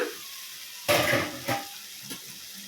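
A spoon stirs vegetable curry in a pot, with one loud scraping, sloshing stroke followed by two fainter clinks and scrapes over a quiet simmering background.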